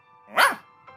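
A magical dog character in an animated Hindi story gives a single loud bark, rising and falling over about a quarter second, with a faint yip at the end and no talk.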